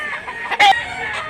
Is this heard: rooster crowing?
yes